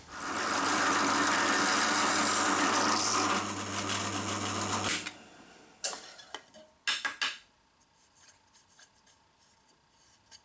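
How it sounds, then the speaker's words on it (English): Reamer cutting a bushing hole in a piece of scrap wood for a Les Paul Junior style guitar, a close grinding rasp for about five seconds, then scattered clicks and handling knocks. "this will ream out the top section to allow the bushing to sit down"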